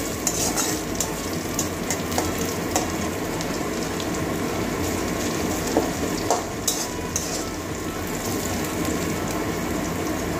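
Onion and garlic fry in a pan for a Bengali okra and tomato sour dish, a continuous close sizzle with frequent scraping stirs and small crackles, no talking.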